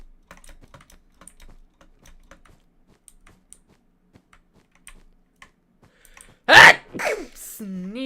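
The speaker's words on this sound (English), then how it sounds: "Getting the stream sneeze out of the way early, I guess" A single loud, close sneeze bursts out near the end after several seconds of faint, sparse computer keyboard clicks, followed by a brief voiced sound.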